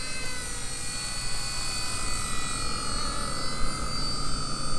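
A tiny RC ERA C032 1/48 scale Huey helicopter hovers and climbs in calm air, its steady high-pitched motor whine and rotor buzz continuous and fairly close, with a faint rumble beneath throughout.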